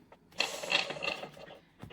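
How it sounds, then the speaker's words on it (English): Playing cards are shuffled with one hand, giving a brief, close, quiet riffle of rapid papery flicks and clicks lasting about two seconds. "I haven't shuffled with one hand in a minute"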